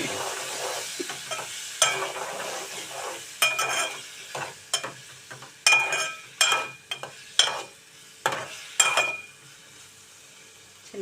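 Small pieces of ripe tomato cook in a pan on the stove. A steady sizzle runs under repeated scraping stirs of a utensil against the pan, close and fairly loud, with no talking.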